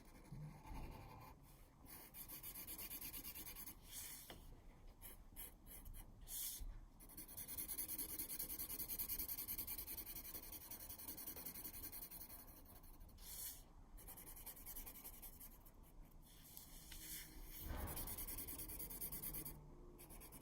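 Pencil coloring on paper for an op art circle drawing, a steady close scratchy rubbing with short pauses as the paper is rotated, continuing alone without talk.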